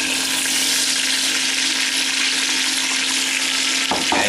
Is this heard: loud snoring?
no